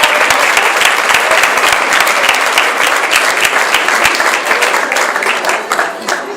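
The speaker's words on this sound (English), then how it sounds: "Let's give a round of applause to the graduates of Pacific" Loud, sustained applause from a large crowd, dense clapping filling the whole stretch without pause.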